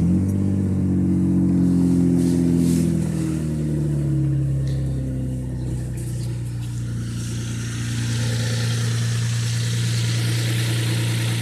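A Mitsubishi 3000 GT engine with a slight lifter tick starts and settles into a steady, even idle, the pitch falling as the revs drop after start-up. It runs loud and close for the whole stretch.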